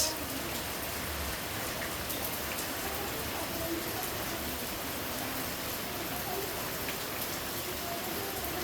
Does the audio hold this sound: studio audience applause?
no